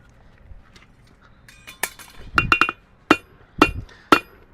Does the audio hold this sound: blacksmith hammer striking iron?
yes